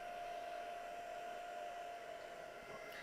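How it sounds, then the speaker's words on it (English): Hair-dryer-style heat gun blowing on a mixed media piece, a steady soft whir with a thin whine running the whole time, faint and continuous with no talking. "the heat dryer, the hair dryer style guns are less powerful for things like this"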